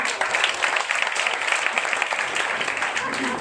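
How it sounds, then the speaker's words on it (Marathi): An audience at a family meeting sermon applauds, producing a dense, steady patter of clapping that holds for a few seconds at fairly close range. "अरे वा, टाळ्या वाजवा."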